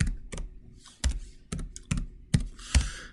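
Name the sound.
typing on a computer keyboard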